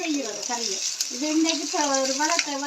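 The curry base for a Jaffna-style fish curry sautés in a pan with a steady, close sizzle while a person talks over it throughout.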